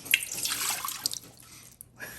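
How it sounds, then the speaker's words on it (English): Cup of water poured into the bottom of a cooking pot, a short splashing gush that quickly tapers to a few trickles and drips, close and alone. "So you add 1 cup of water to the bottom."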